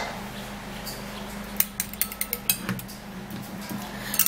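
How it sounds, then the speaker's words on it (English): A spoon stirs a yogurt face mask in a bowl, making a quick series of light, close clinks and taps over a steady low hum, then a few more scrapes near the end. "and then we will stir"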